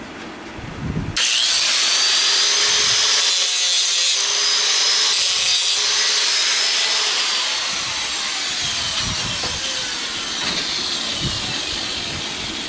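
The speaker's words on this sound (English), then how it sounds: "I'm going to hit this real quick with the grinder, angle grinder" An angle grinder cuts into a metal BBQ grill part being scrapped for brass and aluminum, a loud continuous high-pitched whine and screech that starts abruptly and runs steadily, close by with no talking.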